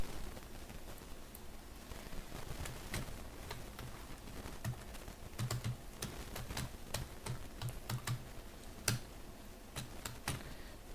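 Computer keyboard keys clatter steadily in irregular bursts of clicks while an email is typed into a WordPress contact form, close and fairly quiet, with no talking.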